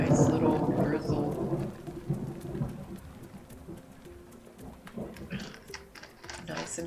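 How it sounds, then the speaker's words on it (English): Rainy thunderstorm in Minecraft's Ocean Block, a low rumbling roll of thunder fading under steady rain patter, with scattered clicks of keys and a brief spoken voice. "And then you get the storms, which are so loud."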